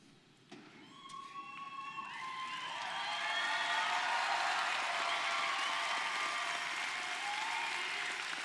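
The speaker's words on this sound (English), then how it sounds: "Let's give them a big round of applause" A standing audience at a College of Veterinary Medicine ceremony at Washington State University breaks into applause that starts with scattered claps and swells into sustained, dense clapping that fills the room.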